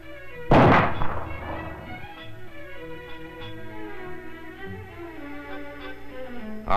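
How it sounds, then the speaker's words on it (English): A single loud, sharp Weatherby rifle shot rings out on an African safari hunt and decays into a rumble, followed by steady background music with no voices. "It was an excellent opportunity to try the Weatherby rifle in action."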